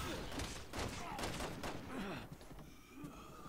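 Gunfire in Resident Evil 6 rattles as a dense run of repeated shots, fairly quiet and steady across the clip, with game sounds and faint speech mixed in beneath.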